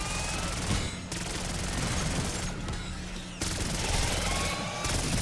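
A PPSH submachine gun firing continuously in Black Ops 6 Zombies, a dense, loud stream of rapid automatic shots broken by brief pauses, with heavy low rumble throughout.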